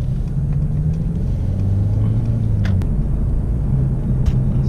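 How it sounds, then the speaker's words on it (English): A heavily modified Subaru car drives past on a city street, a low engine rumble swelling and fading amid steady nearby traffic noise, with a few faint clicks over the top. "And there's a Subi that's all modded up"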